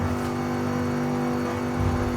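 The GTA Spano sports car accelerates in the racing game Forza Horizon 5, its engine holding a loud, steady, close drone for about two seconds, with a slight surge at the end.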